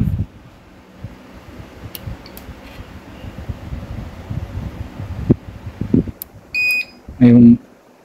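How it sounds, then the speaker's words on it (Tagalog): A few short electronic beeps from a UPS backup power unit with a new battery sound near the end, after several seconds of faint rustling and handling noise with a steady low hum. "nag-buzzer na siya ngayon, may ilaw na siya na kulay green"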